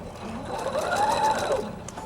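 A sewing machine stitches fabric for a basket in a steady, continuous whirring run of about two seconds, close and clear with no talking.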